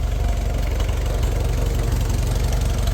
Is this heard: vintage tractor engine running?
yes